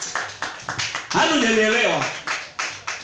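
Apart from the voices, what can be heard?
congregation clapping hands for Jesus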